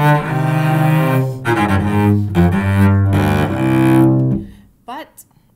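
Cello playing the Allemande from Bach's Suite No. 5 as a perfect sequence, a phrase of bowed notes stepping in a repeated pattern, close and alone, ending with a short pause and a few faint sounds.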